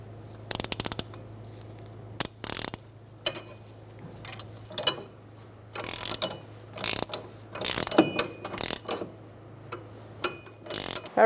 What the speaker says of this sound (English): now we're going to thread our new tie rod in